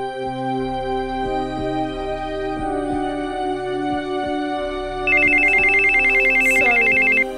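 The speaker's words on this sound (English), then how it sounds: "Sorry, it's my phone." A mobile phone rings partway through a quiet scene in the Nigerian film Kayefi, a steady electronic ringtone starting suddenly over soft background music and continuing to the end.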